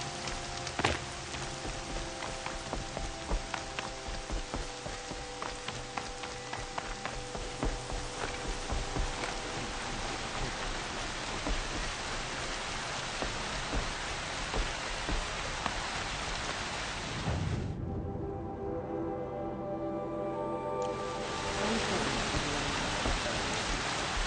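Steady rain in the video game Horizon Zero Dawn patters and hisses on surfaces, a dense, even wash of drops that thins briefly before returning.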